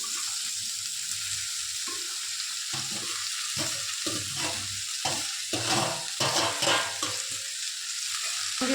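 Onion leaves sizzle and fry in a pan with roasted chillies, a steady hiss broken by repeated stirring scrapes and clatters.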